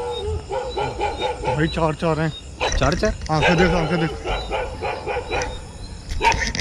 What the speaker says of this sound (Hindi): कुत्ता फिर से भौंक रहा है सामने